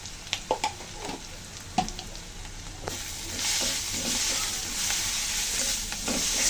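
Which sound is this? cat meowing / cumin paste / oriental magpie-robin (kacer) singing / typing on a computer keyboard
cumin paste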